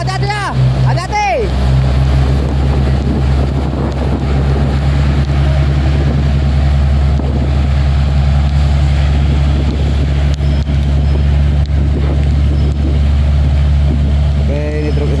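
A FAW trailer truck's engine drones steadily and loudly as it strains to climb a steep hill, a deep constant rumble throughout, with voices talking over it and wind buffeting the microphone.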